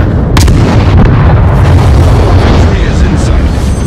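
Naval artillery thunders in World of Warships Blitz, a loud, dense, continuous barrage of booming shots and rumble, with a voice talking over it.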